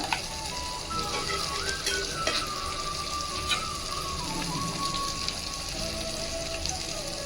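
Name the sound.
masala paste cooking in pan for cashew potato kurma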